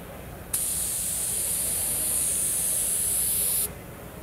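A loud, continuous hiss of a spray gun painting a car runs for about three seconds, starting and stopping abruptly.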